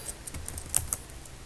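Computer keyboard being typed on while writing code, giving a short run of light, quick clicks, faint and close, with no speech.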